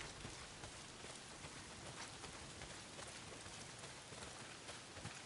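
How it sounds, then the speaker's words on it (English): Heavy rain pours down in a video game, a dense, steady hiss that holds at an even level throughout, with no voices. "Well, not if it's pissing down rain."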